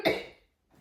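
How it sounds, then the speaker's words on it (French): A single short cough from a person, fairly quiet and close, fading quickly into silence with a faint trailing breath or sound after. "J'ai envie de tousser encore."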